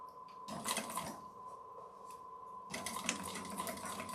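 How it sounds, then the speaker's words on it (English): Sewing machine stitching fabric, a bobbin running low, in two busy bursts of rapid mechanical whirring separated by a quieter pause, heard close and fairly faint. "after I'm done stitching this one on, I'm going to check that bobbin, because it sounds like it's about gone"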